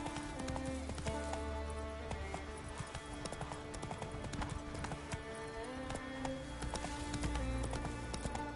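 A horse's hooves clip-clop in a brisk, steady rhythm in the video game The Witcher 3, quiet and layered under game music and ambience.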